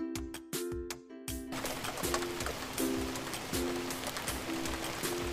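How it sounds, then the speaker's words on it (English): Rain falling on a rainy day, a steady broadband hiss of drops that swells in after a brief tonal musical opening, with soft bird coos faintly mixed in. "These clouds drops a lot of water, we called it rain."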